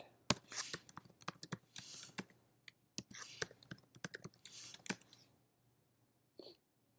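Username and password typed on a computer keyboard while setting up a Debian 11 Linux install: crisp, close keystrokes in irregular bursts with short pauses, then a long gap and one faint final tap.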